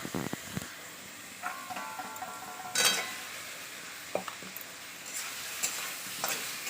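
Potatoes frying in sautéed biryani spice paste in a home kitchen, a soft steady sizzle with a few clinks and scrapes of a spoon against the pan, no voices.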